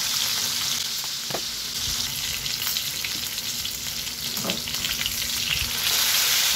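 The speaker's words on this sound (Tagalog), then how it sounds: "Ipipirito ko na rin yung tuna." Tuna meat frying in a pan, a steady close sizzle with faint crackles and occasional stirring scrapes, no talking.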